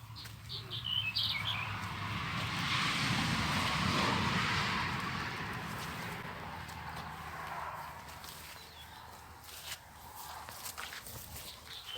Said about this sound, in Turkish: Kuş sesleri.